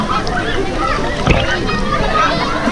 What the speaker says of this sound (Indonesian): ini Rumi lagi berenang.